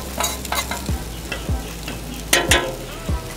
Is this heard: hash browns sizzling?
yes